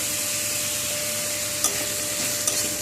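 Beetroot and carrot pieces stirred in a pan with a steady soft sizzle, a spoon scraping and a couple of sharp clinks against the pan near the end; no talking.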